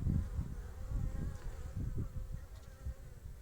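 Honeybees crowd a hive entrance in a Şile village on a mild spring day, carrying in pollen: a dense, steady, close buzzing drone with no pauses.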